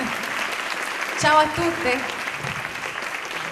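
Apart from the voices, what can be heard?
audience applause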